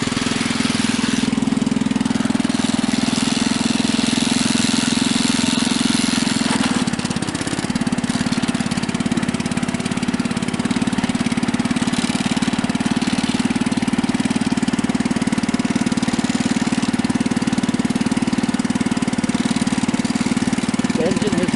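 A Husky 600 engine runs steadily at a constant drone for the whole stretch, loud and close, with no talking over it.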